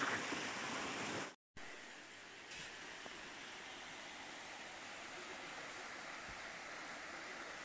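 A forest waterfall rushes in a steady, even hiss, fairly quiet and continuous apart from a brief dropout near the start.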